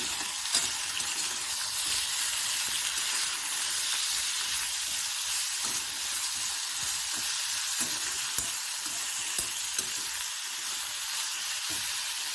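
Steady, loud sizzling of tomatoes frying in a pan for mint-tomato chutney, a continuous hiss with occasional soft pops and no voices.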